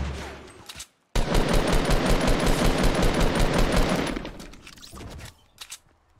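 Rapid automatic gunfire in the Fortnite video game, a close, loud stream of fast, evenly spaced shots lasting about three seconds and fading out, with a few isolated bangs before and after.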